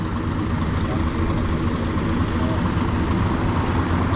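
A Volvo B10BLE bus with Wright Renown body, on a 2002 registration, idles steadily and loudly near Mill Hill Station, a constant low rumble with no change in pace throughout.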